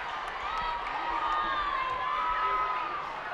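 A high school boys' basketball crowd cheers in a gym during a game, a steady roar of voices with shouts and whoops rising in the middle, partly under talk.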